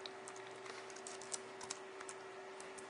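Quiet, rapid clicking of a computer keyboard as code is typed, irregular keystrokes in short bursts close to the microphone, with no talk.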